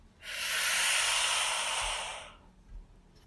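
A slow, breathy exhale with sound during a guided meditation, one long airy hiss rising and fading over about two seconds, close and alone without talk.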